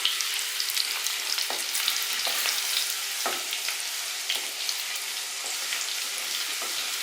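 Chopped garlic frying in oil in a pan while being stirred with a spoon, a steady bright sizzle throughout with light scraping touches, close and moderately quiet, no voices.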